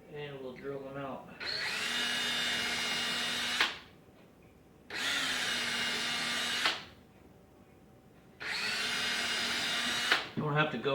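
A power drill with a 1/16-inch bit whirs in three sustained bursts of about two seconds each, drilling holes about half an inch deep in a soap mold, separated by short pauses, with brief talk at the start.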